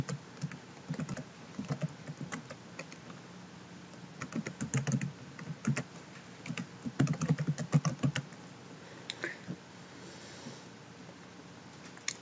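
Typing on a computer keyboard, with uneven bursts of quick key taps and short pauses between them, close and fairly quiet, with no talk.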